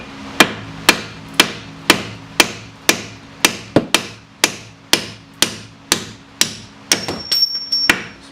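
A hammer strikes a seized strut bolt on a 2008 Pontiac Grand Prix, about fifteen sharp metallic blows at a steady pace, close and loud, with faster, lighter taps at the end.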